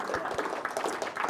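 A small audience at a technical society talk gives a short round of applause, scattered claps rising and falling in a brief, moderately loud burst.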